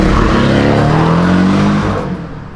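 A Porsche accelerates hard nearby, its engine roaring loudly with a rising revving pitch before tapering off, heard alone.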